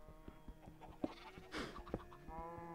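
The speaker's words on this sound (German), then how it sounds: "Die machen auch lustige Geräusche, die Kühe." Cows in the video game Minecraft give a few short, nasal lowing calls near the end, heard alone over a quiet game background with scattered soft clicks.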